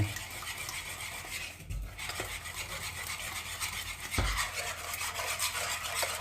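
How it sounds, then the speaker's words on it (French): Eggs being mixed into sugar in a bowl for a lemon meringue tart, heard as a steady close scraping and stirring rasp with a couple of soft knocks from the utensil against the bowl, no talk. "Je mets les œufs dans mon sucre. Je mélange."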